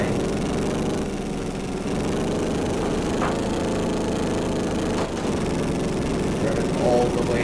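A Formula 1 car engine drones steadily and loudly at high revs while lapping Goodwood, with a constant tone and only slight dips.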